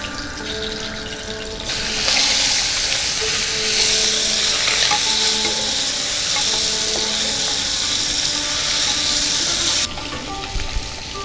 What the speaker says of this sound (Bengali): ডিমে নুন, হলুদ আর সর্ষের তেল মাখিয়ে আমি ভেজে নেব।